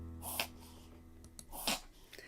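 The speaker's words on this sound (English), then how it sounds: "she's in her sweater and she's sneezing" Rosie, a pet wearing a sweater, gives two quick sneezes, small sharp bursts spaced about a second apart, heard close over a faint steady hum.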